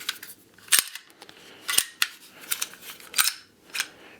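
SIG P250 Subcompact pistol being checked after its magazine is dropped, giving a series of quiet, crisp metallic clicks and snaps spaced irregularly, close by and without talk.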